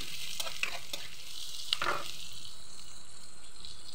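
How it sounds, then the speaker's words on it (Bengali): Onions and chilies frying and being stirred in a pan for a home-style egg, potato and tomato curry, giving a soft steady sizzle with a few light scrapes and clicks of the spoon early on, and no talking. "ভালোভাবে পেঁয়াজ মরিচ ভেজে নিচ্ছি।"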